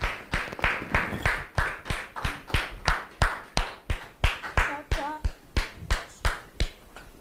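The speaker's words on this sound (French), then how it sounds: "sous vos applaudissements, s'il vous plaît." A small studio audience claps in a steady, rhythmic beat, roughly two or three claps per second for about seven seconds, sounding sparse and fairly close with a faint voice briefly underneath.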